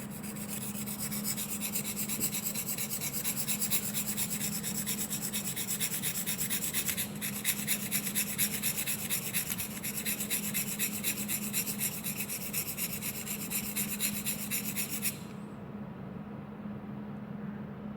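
A pen tip is rubbed down steadily on a rough surface to make a writing pen, giving a continuous close rasping scrape for about fifteen seconds before it stops. No one speaks.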